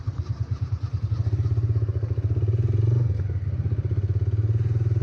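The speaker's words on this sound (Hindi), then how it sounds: "ये बाइक ऊपर चली जाएगी।" A motorcycle climbs an uphill off-road track in Taxila, Pakistan, its engine chugging with a fast regular thumping pulse that steadies and swells, loud and close, with rattling clatter and no speech.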